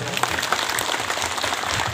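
Brief applause from a crowd gathered at a Sarna worship site in Pandra, Ratu, Ranchi, dense clapping filling the short moment with faint voices mixed in.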